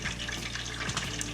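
Water is added to a fish escabeche sauce in a home kitchen, giving a steady close pouring and trickling sound with no talk.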